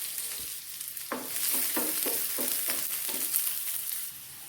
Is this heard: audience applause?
no